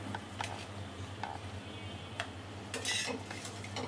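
Fried banana flower chops are lifted out of a pan with a metal utensil, giving light scattered clinks and scrapes against cookware over a quiet, faint kitchen background.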